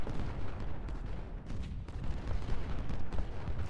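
Artillery fire in the Civil War strategy game Ultimate General: Civil War, during the battle of Gaines' Mill, a dense rumbling wash of booms and gunfire rolling continuously with no clear gaps.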